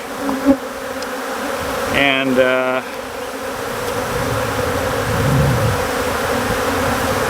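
Africanized honey bees buzz steadily at a hive during a new queen introduction, a dense continuous drone from start to finish, with one brief spoken word and a short tonal engine-like hum near the two-second mark.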